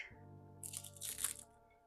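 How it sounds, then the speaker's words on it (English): Food crunches in quick, close bites over a faint steady background drone, a few brittle crackling bursts clustered within a second or so. "Can you hear that crunch?"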